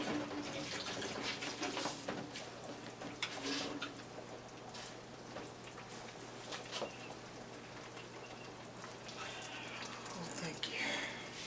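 Water running from a kitchen tap into the sink while a dish rag is rinsed, a quiet continuous splashing with intermittent clinks and people talking nearby.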